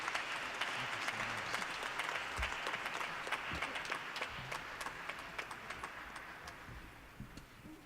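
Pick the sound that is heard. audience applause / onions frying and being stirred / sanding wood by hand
audience applause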